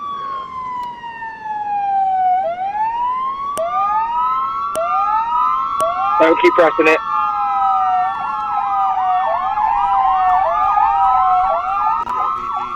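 Emergency vehicle sirens in a video game roleplay wail and yelp in overlapping sweeping tones, several sirens layered and rising and falling continuously, loud and close, with brief clicks as modes switch and a short spoken remark.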